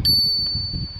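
The integrated bell on a rental electric-assist bicycle gives a single bright ding close by, its clear tone ringing on and slowly fading over a low background rumble.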